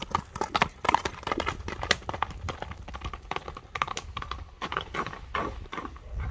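Hooves of a horse clip-clop steadily on hard ground as it is led and let out at a quicker pace, loud and close, with rapid irregular strikes and no clear talking.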